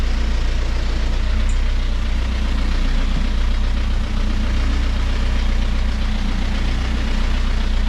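A sailboat's inboard engine idles steadily with a deep, continuous low rumble that stays loud and even throughout, with no talk.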